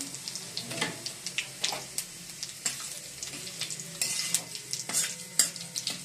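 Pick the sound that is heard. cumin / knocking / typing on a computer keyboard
cumin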